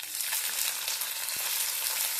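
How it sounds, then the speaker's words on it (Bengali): Chopped onion hits hot oil with panch phoron and dried chilli for a cauliflower stalk chorchori, making a loud, dense, continuous sizzle close by. One brief knock sounds partway through, and no one talks. "পেঁয়াজটা আমি দিয়ে দেব।"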